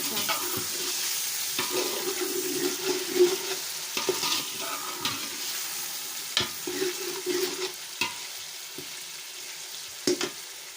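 Beef pieces sizzle and fry in a masala base in a pot, with a steady crackling hiss and repeated scraping stirs, close and fairly loud, no talk.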